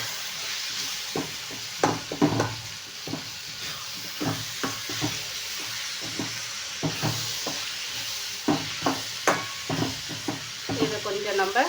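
Tomatoes and pirandai cooking in a pan, giving a steady close sizzle and hiss with repeated stirring scrapes and clinks throughout.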